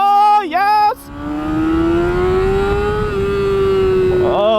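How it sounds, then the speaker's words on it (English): A 2008 Honda CBR 600RR sport motorcycle fitted with a Yoshimura exhaust, loud and close, revs in a quick burst and then holds a long, rising high-rpm wail while the bike is ridden. "Nothing replaces the feeling of revving a 600 out."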